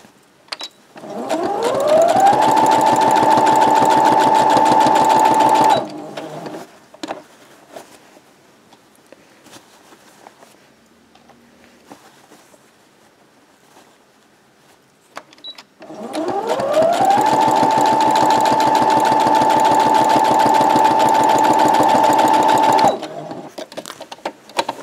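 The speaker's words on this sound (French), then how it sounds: "on va coudre au bord, ce qui fait que ça va coudre la partie qui est restée ouverte" Sewing machine stitching along the edge of a fabric knitting bag gives a loud whirring run that ramps up and holds for about four seconds, pauses with quiet handling noises, then runs again at the same steady hum.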